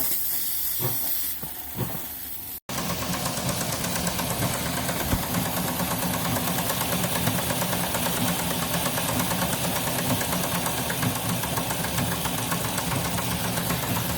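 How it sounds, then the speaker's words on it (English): A live steam Shay model locomotive, gauge G at 1:22.5 scale with two trucks, runs on its first steam test with a steady, close hiss and rapid rhythmic chuffing that continues throughout. "Now I start the engine,"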